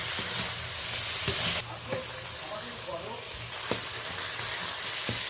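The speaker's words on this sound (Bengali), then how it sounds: "এটা ভালো করে মিশিয়ে নিচ্ছি" Food sizzles steadily in a hot pan while a spoon scrapes and taps against it a few times as it is stirred.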